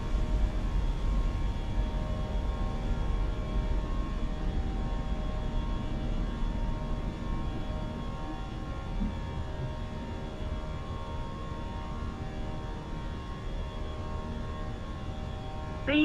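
Steady airliner engine roar of a BA A320 climbing after takeoff in a flight simulator, a constant broadband hum with tonal lines holding level throughout, no speech.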